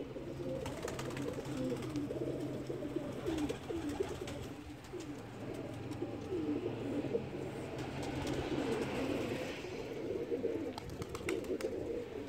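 Pigeons coo steadily in a soft, overlapping chorus, with a few light chirps and rustles nearby.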